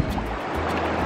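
Strong ocean waves at the Mapupungko rock pools in Siargao, a loud, close, continuous rush of surf and churning water over about a second, with no voices.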